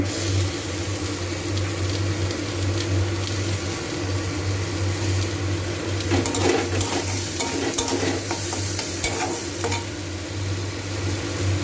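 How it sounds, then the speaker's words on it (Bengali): Chopped tomato going into a pan of stingray curry brings a steady sizzle under a low hum, with a burst of louder scraping and clattering stirring partway through, close by. "এবারে আমি টমেটো কুচিটা দেব।"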